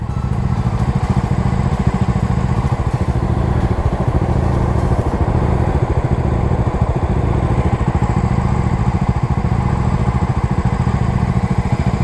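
A new Bajaj Dominar 250 motorcycle runs steadily at close range, a loud continuous engine drone with its cooling fan whirring along underneath, unbroken for the whole stretch with no speech.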